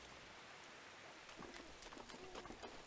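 Rain in The Legend of Zelda: Breath of the Wild, a steady wash of falling rain with scattered drop and patter sounds that thicken and grow slightly louder toward the end, heard alone without talk.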